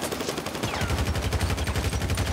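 Rapid automatic gunfire rattles continuously in GTA V roleplay, a fast rhythmic burst of shots sustained at moderate loudness throughout.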